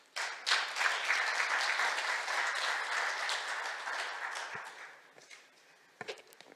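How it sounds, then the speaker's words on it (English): Audience at a Seoul science and technology forum clapping for a keynote speaker, a dense burst of applause that thins out and trails into a few scattered claps. "So please welcome her with a big round of applause."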